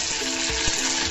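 Sesame seeds crackle and sizzle steadily in hot oil during the tempering for a palak dhokla, a close, continuous frying hiss with small pops throughout.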